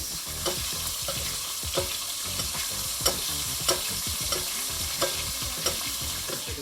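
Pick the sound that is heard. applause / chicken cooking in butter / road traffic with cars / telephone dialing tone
chicken cooking in butter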